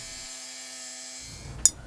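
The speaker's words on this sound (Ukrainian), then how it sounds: "Гравером вибираємо ложбину в центрі." A rotary engraver cuts a groove down the center of a soldered metal spoon fishing lure. It gives a faint, steady motor whine throughout, with a brief sharp click near the end.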